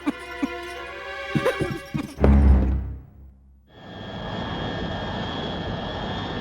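An engine runs with rhythmic knocks, then sputters and winds down to near silence before a steady, hissing noise takes over.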